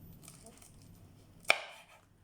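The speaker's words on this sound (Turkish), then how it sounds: "Şimdi doğrama işlemine başlayabiliriz." A single sharp knife chop cuts green peppers on a cutting board, loud and close against a quiet kitchen background.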